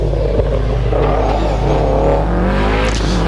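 A Subaru Sports Wagon powers out of a hairpin chicane at a hillclimb race, its engine note droning loudly and rising as it accelerates up the course, with no voices over it.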